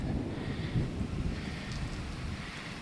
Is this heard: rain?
yes